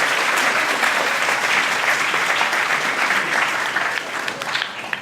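An audience at the Emerson School Follies claps loudly and steadily. The dense, sustained applause fills the room and thins slightly near the end.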